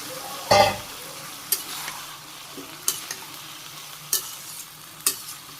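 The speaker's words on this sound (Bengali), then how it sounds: "তো এখন দিয়ে দিলাম, সবজিটা কষিয়ে নিই, হালকা কষিয়ে নিচ্ছি।" Okra and mixed vegetables are lightly stir-fried in a pan, giving a soft continuous sizzle broken by several sharp scrapes and taps of the spatula at irregular intervals, close by with no talking.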